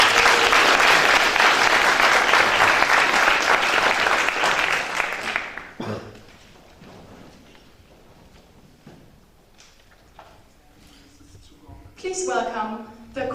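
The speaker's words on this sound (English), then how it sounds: "please, can you come to give a great round of applause for Anna Stelko" An audience at a Prague event gives a speaker a round of applause, loud dense clapping for about five seconds that fades into quieter room noise, shuffling and a person speaking.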